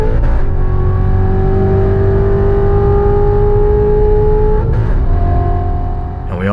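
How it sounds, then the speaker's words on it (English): Corvette C7 Z06 with the seven-speed manual accelerating hard, its engine note climbing steadily and loud, then a quick no-lift power shift near the end that briefly breaks and restarts the rising pitch. "The 7-speed, however, does have one trick up its sleeve, and that's no lift shifting. Some of us refer to this as power shifting."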